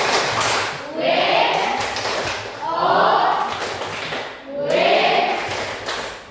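A group claps together in a rhythmic pattern, with three loud bursts of mingled clapping and voices, mixed with talk and cheering.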